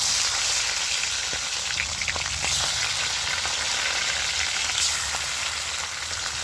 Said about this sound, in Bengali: তেলের মধ্যে এবার আমি মাছটায় হলুদ মাখিয়ে রেখেছিলাম, এবারে দিয়ে দিচ্ছি, মাছটা ভেজে নিচ্ছি।